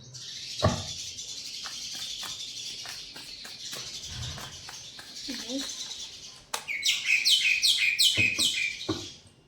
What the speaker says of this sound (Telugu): మా ఇంట్లో పక్షులు అరుస్తున్నాయి.